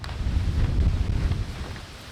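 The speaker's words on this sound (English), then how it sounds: "The wind was pretty intense today, which isn't typical during summers here." Strong summer wind blows outdoors at a building site, making a loud, blustery low rumble against the microphone that swells and then eases slightly, with no voices.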